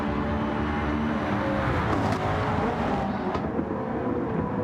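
Race car engines, including a Porsche 918 Spider, drone steadily in a racing video game championship at Lago Maggiore, a continuous layered roar with faint shifting pitch sweeps as cars run close together.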